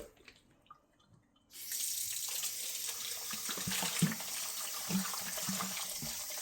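Tap water runs steadily and loudly over goat meat being washed for a big Jamaican-style batch of about 30 pounds, starting abruptly after a quiet moment and continuing as a constant rushing splash with faint handling knocks.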